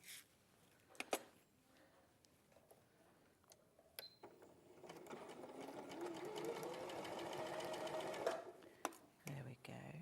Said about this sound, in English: And then I can sew all the way up to the shoulder.